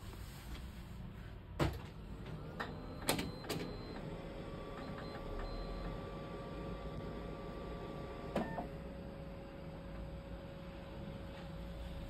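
A Sharp BP series office copier restarts after a code reset, giving a few clunks and clicks over a steady low mechanical hum and a faint whine, fairly quiet throughout.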